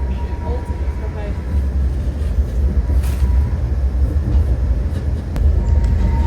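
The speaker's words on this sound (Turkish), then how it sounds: "Son dəfə tramvaydayıq. Praqda." Steady low rumble of a tram running through Prague, a continuous rolling drone with faint rattles and squeaks throughout, with people talking softly over the ride.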